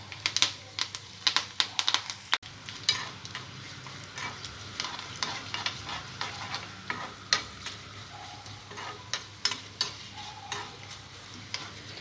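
Garlic, dry red chillies and curry leaves frying in a tempering for tindora chutney, a steady sizzle punctuated by frequent sharp spoon taps and stirring clicks against the pan.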